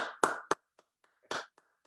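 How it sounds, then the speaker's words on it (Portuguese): A few scattered hand claps at an evening event: a couple of sharp claps, a pause, then another clap and faint taps, thin and sparse rather than full applause. "vocês merecem os aplausos"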